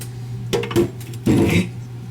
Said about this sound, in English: In go my fresh chopped tomatoes